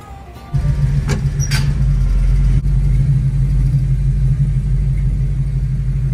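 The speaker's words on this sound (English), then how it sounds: "Thankfully, the car fired right up" A 1965 Chevy II V8 catches and settles into a steady, loud, deep idle rumble up close, running continuously after the start.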